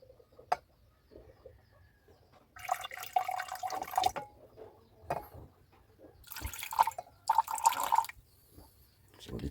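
Small pours of liquid trickle and drip into a small beaker during gold recovery from an old Yamaha organ, coming in two short bursts separated by quiet, close and fairly soft.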